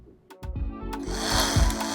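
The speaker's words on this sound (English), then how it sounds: "This multi-tool is great for small jobs, little things you have to cut off" A handheld multi-tool cuts wood trim, starting with a few short buzzing bursts that settle into a steady, close, rasping whine.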